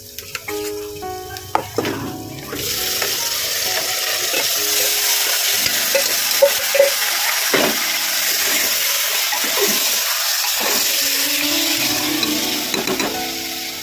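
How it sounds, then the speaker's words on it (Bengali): Mutton and lightly fried onion sautéing in a pressure cooker sizzle loudly and steadily up close, with scraping stirs and clinks against the metal pot. "এখানে আমি মাটনটা দিয়ে দেবো। আমি কুকারে একবারেই কষিয়ে করবো।"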